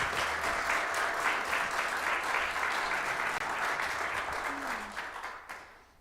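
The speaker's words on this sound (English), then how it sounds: "give her a round of applause." Sustained audience applause at an adult education class session, a steady dense patter of many hands clapping throughout before fading out at the end.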